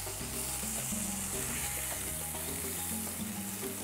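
Flipped chicken pieces fry in a pan with a soft, steady sizzle and light crackle throughout, fairly quiet and close, with no talking.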